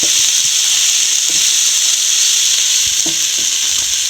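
Soya chunks fry in hot oil with a loud, steady sizzle and hiss, close up, while a utensil scrapes and stirs them in brief knocks every second or so.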